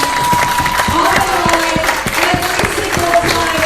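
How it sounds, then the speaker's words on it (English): Applause and cheering from a crowd at a Texoma Pro wrestling event, a steady wash of clapping and shouts that carries on throughout, with a voice partly heard over it. "They deserve a round of applause."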